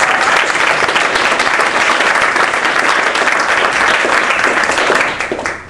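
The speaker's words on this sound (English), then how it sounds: "A big round of applause for Jeff." A seminar audience gives sustained, dense applause after a presentation on online digital magazines and catalogs, loud and steady throughout before tapering off at the end.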